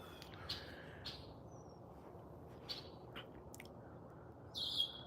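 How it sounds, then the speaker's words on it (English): Birds sing on a quiet morning, with scattered faint chirps and short calls spaced over a steady low background hum, sounding distant and soft. "the birds are singing"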